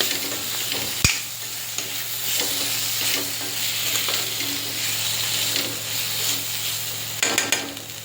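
A cauliflower and potato curry seasoned with salt is stirred in a pan, a soft ongoing sizzle broken by scraping strokes and a sharp knock of the spoon against the pan near the start and again toward the end.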